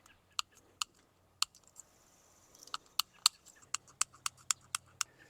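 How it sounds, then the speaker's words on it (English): Snips cut through hardware cloth wire mesh in a series of sharp, close metallic clicks, sparse at first, then quicker and more regular toward the end. "just take that and cut it all the way down"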